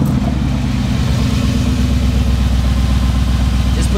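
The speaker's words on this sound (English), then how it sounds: "I just actually got an exhaust on the car. I don't know if you can hear it on the camera." Mercedes G-Wagon engine idling with a newly fitted aftermarket exhaust, a loud, steady low rumble with a regular pulsing throb, close by and continuous for the whole stretch.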